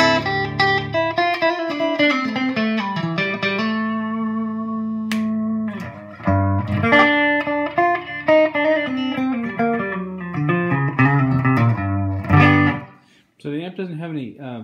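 Electric guitar played through the clean channel of a Spawn Super Sport amp head with no reverb: loud, dry picked chords and single notes ringing out, with short pauses between phrases.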